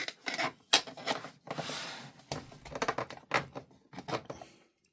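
A 3D-printed coffee tool is pushed down into its holder at a home coffee station, giving close, dry scraping and rubbing of plastic in a series of short, uneven scuffs and clicks.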